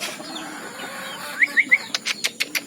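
Red junglefowl (labuyo) chickens giving a short run of clucks and chirpy calls, about eight quick regular notes in the second half, close by, over light outdoor background noise.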